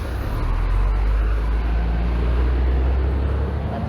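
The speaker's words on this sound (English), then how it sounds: "That's a bus." A bus rumbles along the road, its heavy, steady low roar filling the scene with continuous traffic noise throughout, no speech.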